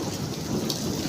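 Rain and hail pour down in a thunderstorm, a dense, steady wash of drops striking surfaces with a low rumbling undertone, loud and continuous across a brief moment.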